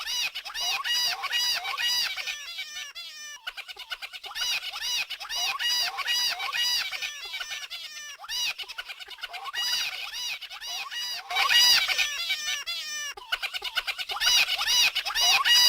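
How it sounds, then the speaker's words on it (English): Cartoon sand people chirp in rapid, high-pitched squeaky bursts that repeat over and over with short pauses in between, a constant, grating chatter up close. "they are very annoying with their chirping sounds"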